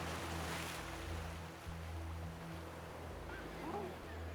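Slate-blue ocean surf washes against the steep cliffs of craggy Round Island, a broad continuous roar with a low steady hum beneath it.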